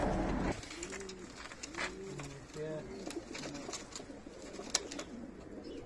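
Pigeons coo in several soft, rolling phrases close by, with faint background rustles and clicks.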